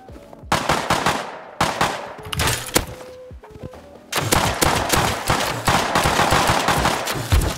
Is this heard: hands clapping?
no